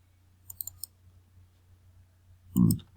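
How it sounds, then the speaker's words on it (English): Computer mouse clicks: a quick cluster of faint clicks early on, then a louder thump-like click near the end, over a quiet hum in a still room. "So I'm going to come there, double click on that."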